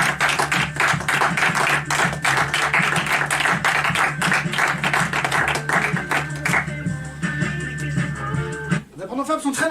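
An audience at an improv cabaret show applauds in a dense, steady burst of clapping that thins out near the end before a brief voice breaks in.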